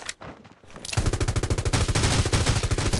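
Gunfire in the mobile video game Rules of Survival, a loud rapid automatic burst of evenly spaced shots starting after a brief quieter moment and continuing to the end.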